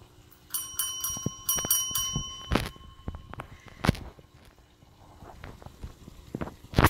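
A Yorkie rings a bell for breakfast: a cluster of bright metallic dings early on, then scattered taps and footstep-like knocks in a quiet indoor room, no talking.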